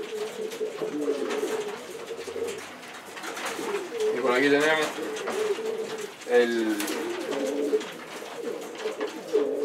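Domestic breeding pigeons coo in a loft, their low repeated calls running steadily in the background while people talk over them close by.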